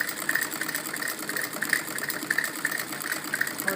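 A sewing machine stitching salwar panels runs in a fast, even mechanical chatter, close and steady, with regular clicking ticks repeating through the whole stretch.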